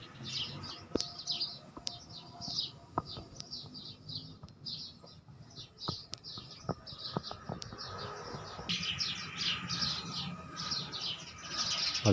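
A sparrow feeding its chicks inside a cypress plant gives repeated quick chirps and tweets at moderate distance, with scattered sharp clicks and a busier burst of calls toward the end.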